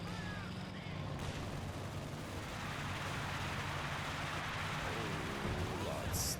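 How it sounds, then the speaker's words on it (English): Indirect artillery fire in a Company of Heroes 2 battle, a steady rumbling barrage of distant impacts and explosions running throughout, with someone talking over it. "Lots of indirect fire coming into the middle, getting good hits on his infantry sections"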